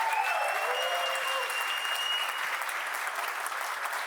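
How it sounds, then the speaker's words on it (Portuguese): Audience applause for Eduardo Suplicy at a public-policy event on medicinal cannabis regulation in Brazil, a dense sustained clapping from a large crowd, steady throughout, with faint voices underneath. "peço uma salva de palmas de novo para o nosso papito Eduardo Suplicy"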